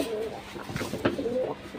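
Pigeons for sale, two females and a male, coo softly in a short, close burst of low, throaty calls.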